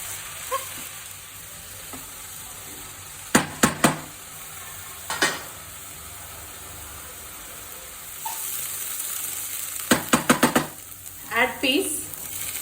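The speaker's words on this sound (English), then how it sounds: "Fry until they are golden and brown" Oil sizzles steadily in a pan while fenugreek leaves are fried, with several sharp clusters of spatula scrapes and clinks against the pan breaking through the hiss.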